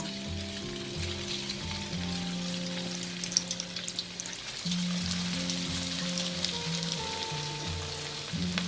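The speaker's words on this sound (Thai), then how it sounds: "แล้วเราก็ใส่ลงทอดเลยค่ะ" Battered sticky rice frying in hot oil, a dense continuous crackling sizzle with scattered popping bubbles, close and steady, with a low hum running underneath.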